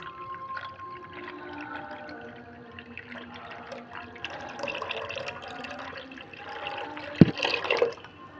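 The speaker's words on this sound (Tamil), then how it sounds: "தண்ணியும் சேர்க்கணுங்க." Water is poured into a pressure cooker holding soaked black kavuni rice, a soft, steady trickle and splash running throughout, fairly quiet, with one sharp clink near the end.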